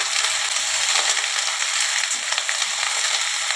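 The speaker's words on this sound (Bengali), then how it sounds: "আমি এই ফুলকপিগুলোকে একটু ভালো করে ভেজে নিই।" Cauliflower florets frying in oil with turmeric, a loud, dense, continuous crackling sizzle heard up close throughout, with no talking.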